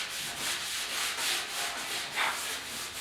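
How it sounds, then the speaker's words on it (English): Continuous rhythmic sanding of a 1956 Ford pickup's rear fenders and tailgate, a rough scratchy rubbing in repeated strokes at close range, with no voices. "I'm just going to continue sanding"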